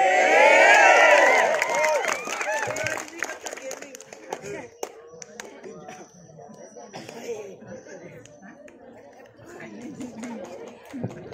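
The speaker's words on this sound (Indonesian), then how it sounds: "Ya, beri tepuk tangan untuk teman-teman kita" Applause and crowd chatter at an Islamic sholawat celebration and prize-giving, loud at first, with voices and cheering, then thinning into scattered claps under talk and murmuring.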